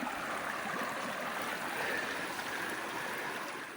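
Creek water flows steadily at a swimming hole on Twenty Five Mile Creek, a dense, close rushing and trickling wash that holds constant throughout.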